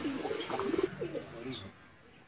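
Soft, low cooing from Sialkoti pigeons, a few rolling murmurs close by, then a brief quiet with a small knock at the end.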